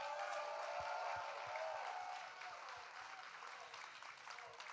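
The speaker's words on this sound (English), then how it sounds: "Let's give a round of applause here for Kobe." An audience at the Microsoft Excel World Championship 2025 finals applauds in a steady wash of clapping that fades slightly, heard from a distance with low thumps underneath.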